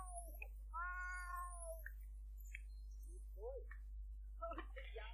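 Cats in The Sims 4 give several short, tonal meows in a quiet room, one longer drawn-out call followed by smaller chirps, with a low steady hum underneath and a bit of talk near the end.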